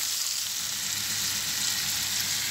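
Beef kavurma fries steadily in a pan with vegetables, a dense, continuous hiss and crackle of hot fat, close and even throughout with no voices.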